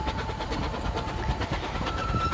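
A Vale of Rheidol Railway train runs on its line toward Devil's Bridge, heard from aboard: a steady, loud rumble with rhythmic clicking of wheels over rail joints and a faint sustained tone, continuous throughout.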